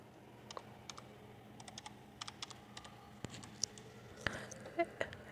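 Typing a command on a computer keyboard, a quiet, close series of irregular key clicks in short bursts, ending with a few sharper, louder taps.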